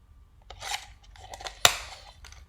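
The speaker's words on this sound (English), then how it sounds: "I'm going to cut triangles." Scissors snipping paper triangles for a shark craft, a few close crisp cutting strokes with soft paper rustle and one sharper snap, quiet and without talking.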